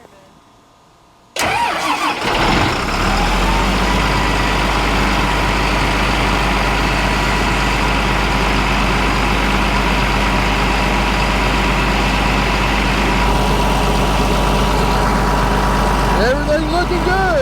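A combine harvester's diesel engine cranks and catches after a near-silent moment, then settles into a loud, steady idle with a deep rumble that runs on to the end.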